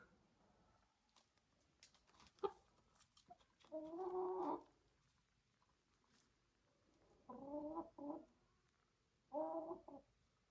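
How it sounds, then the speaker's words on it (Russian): Three hens and one Ameraucana rooster give clucking calls in three separate bursts of about a second each, fairly close amid quiet pecking and rustling. "3 курочки и 1 вот этот петушок. Петушок Амераукана."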